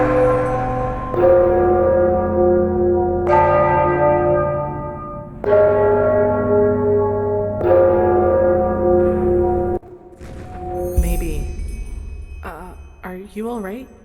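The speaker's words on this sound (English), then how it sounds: "I'm sure the bells have something to do with the riddle." Church bells ring in Enderal, a fantasy mod of Skyrim, as a series of loud, resonant strikes with long ringing decays, followed by quieter ambience and people talking.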